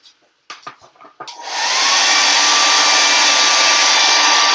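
A hair dryer blasts steadily onto a s'more-themed chalkboard craft after a few soft handling taps, running loud and close without pause.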